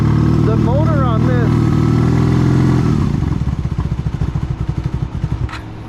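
A carbureted V-twin motorcycle engine idles roughly, its loud rumble faltering into uneven, sputtering pulses as it struggles to keep running. A person talks over the opening seconds.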